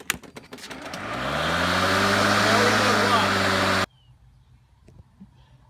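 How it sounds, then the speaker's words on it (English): Walk-behind lawn mower engine catching and running, a rising roar that settles into a loud steady drone for a few seconds before cutting off abruptly, with faint background sounds after. "I'm going to hold that button in and pull the lever back to start the mower"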